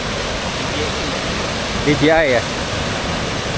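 Tembiras waterfall pouring in a steady broadband rush, with a brief voice speaking over it near the middle.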